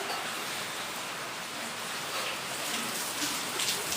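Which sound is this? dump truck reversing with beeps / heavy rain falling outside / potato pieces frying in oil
heavy rain falling outside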